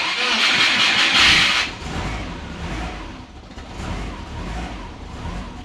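Subaru car engine cranks with a loud starter whine, then catches and settles into a rough, low idle, with a voice talking over it.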